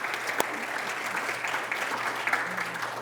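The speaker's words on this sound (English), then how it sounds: "Big round of applause for our guests today." Audience applause for guests at the end of a conference session, a steady wash of clapping from a room of people heard close, with a few sharper claps standing out.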